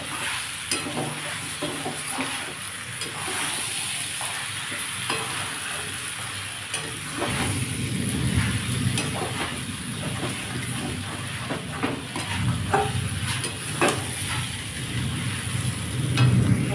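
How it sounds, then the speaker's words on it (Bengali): Pointed gourd (potol) stir-fried in a pan for a potato and prawn curry, a steady crackling sizzle with repeated spatula scrapes that turn louder and fuller partway through, close by with no one speaking. "আমি এর মধ্যে পটলগুলো দিয়ে দিয়েছি, দিয়ে আজকে আবার একটু কষে নেবো"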